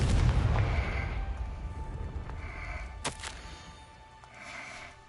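Confringo blast spell in a Harry Potter video game, a booming explosion that rolls off into a low rumble, followed by a sharp crack and fading echoes.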